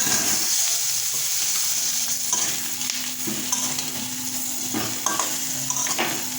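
Potatoes fry in oil with chili and turmeric powder, a steady close sizzle with repeated stirring and scraping strokes throughout, and no one speaking.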